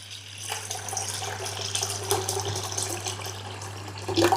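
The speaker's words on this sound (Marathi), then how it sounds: "सगळ्यात अगोदर आपल्याला केटलमध्ये पाणी गरम होण्यासाठी ठेवायचं आहे" Water running from a tap into a kettle to be heated for cooking pasta, a steady splashing pour with small clinks against the vessel, under a constant low electrical hum and no talk.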